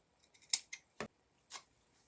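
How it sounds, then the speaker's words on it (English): Scissors trimming a ribbon bow on Dollar Tree acorn fall decor, a few sharp quiet snips spaced irregularly, close and isolated against silence. "Trim that up."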